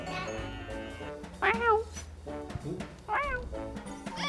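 A person imitates a cat's meow twice, drawn-out rising and falling mews, with soft talking and background noise between them.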